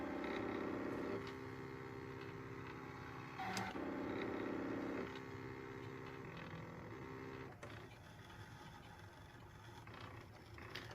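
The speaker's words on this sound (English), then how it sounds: "press start, and it will cut out our keychain" A Brother ScanNCut SDX225F cutting machine works through marine vinyl for a keychain, giving off a quiet mechanical whir with soft motor hums, shifting tones and small clicks as the carriage moves, faint and steady throughout.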